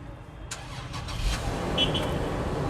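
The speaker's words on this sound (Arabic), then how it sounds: "هدور لكم العربيه عشان تسمعوا صوت المحرك اللي بقول لكم فيه" The engine of a new Toyota Land Cruiser starts up with a quick crank, then settles into a steady deep idle rumble, heard up close with no talking.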